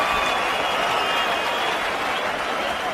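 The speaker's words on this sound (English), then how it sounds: "Fans inside the arena on their feet applauding these warriors" Arena crowd at a UFC event applauding Anderson Silva and Michael Bisping after a round, a dense continuous wash of clapping and crowd noise, loud and steady throughout.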